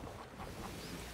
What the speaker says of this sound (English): I hear water guzzling